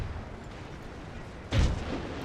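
Artillery fire in The Great War strategy game, a single heavy boom bursting in after a stretch of low rumbling ambience, then trailing into a sustained roar.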